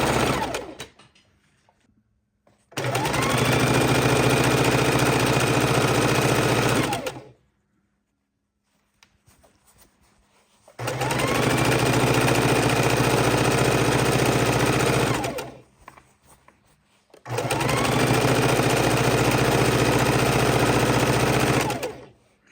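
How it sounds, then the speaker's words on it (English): Close, steady whir of a sewing machine chain stitching quilt fabric in three long runs of about four to five seconds each, with quiet pauses between them. "we can just start the next and keep on chain stitching"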